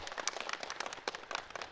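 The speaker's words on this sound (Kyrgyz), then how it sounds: "Келиңиздер, анда өзүбүзгө бир кол чаап коелучу." An audience of young people at a handicrafts youth event claps in a dense, steady round of applause, fairly close and evenly sustained.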